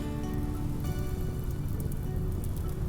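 Steady rain pours in the RimWorld video game, a dense continuous hiss and patter of drops on surfaces, even and unbroken throughout at moderate level with no talking.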